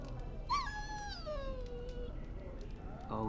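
A dog in the Dragon Age Origins video game gives a single whimper, a thin whine that rises briefly and then slides slowly downward, heard faintly over quiet game ambience.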